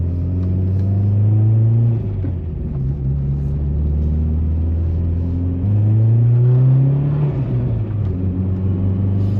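A Volkswagen Mk4 R32 fitted with a cold air intake drives along, its engine a deep, steady drone that rises and falls through several revs and gear changes, heard close from inside the car with no talking.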